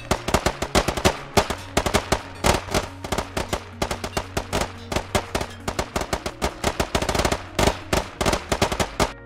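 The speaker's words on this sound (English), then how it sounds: "The whole intent is to ensure there's no lull in the gunfire, thus talking guns." Rapid automatic machine-gun fire in the military shooter game Squad, with dense, sustained bursts overlapping one another and barely a pause, loud and close throughout.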